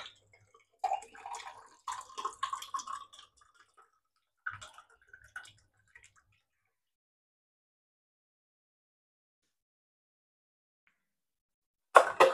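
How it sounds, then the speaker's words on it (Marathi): Water from a small coconut pouring into a glass, a few short bursts of trickling and splashing close by, then quiet before a brief final splash. "ग्लास भरून आणि ह्याच्यामध्ये पाणी, इतकं पाणी निघालं ह्याच्यामध्ये नारळामध्ये"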